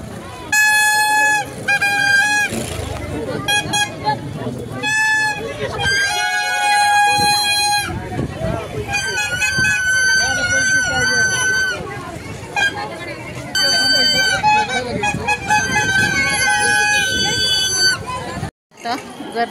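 Children blowing pipani toy trumpets at a crowded Mahashivratri temple fair, bright reedy toots repeating in bursts over constant crowd babble and people talking, fairly close and loud.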